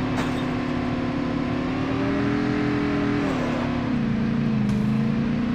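A car engine drives in the Call of Duty Mobile battle royale, a steady, loud, close motor hum that shifts pitch slightly as it speeds up and eases off, with no other sounds over it.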